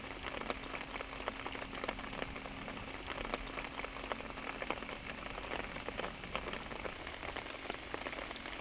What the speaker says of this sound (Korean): 눈물처럼 비가 내리고